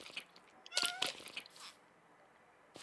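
Minecraft cats let out a few soft, faint meows in quick succession, mixed with small clicks and crunchy bites of feeding, quiet game sounds with light rustling between them.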